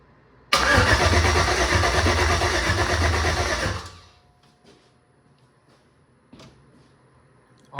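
A Jeep with a swapped-in LS V8 cranks loudly and steadily for about three seconds without catching, the starter's churning drone cutting off into quiet with a few faint clicks and a brief thump afterward.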